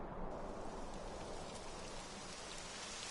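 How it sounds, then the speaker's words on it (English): Steady rain pours in the Dragon Quest 11 video game, a dense, even hiss of falling water with no voices. "It would have to go and start raining, wouldn't it?"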